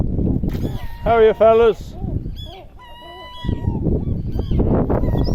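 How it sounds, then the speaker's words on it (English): Seagulls at the Skerries calling loudly nearby, harsh wavering cries in short bursts, with someone talking to the birds in between and wind noise underneath. "How many seagulls can you see?"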